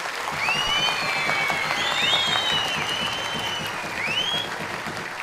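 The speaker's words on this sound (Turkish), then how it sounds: "Öğretmenlerimize kocaman bir alkış" Steady applause from a crowd at a school quiz competition fills the whole clip, with clapping throughout and some high whistles or cheers ringing over it.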